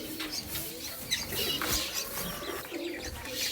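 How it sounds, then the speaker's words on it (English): Pet doves coo in an aviary, soft repeated low coos mixed with faint chirps, light rustling and occasional wing flutters, close and gentle. "Before they chirp too loud, it's time to start their day."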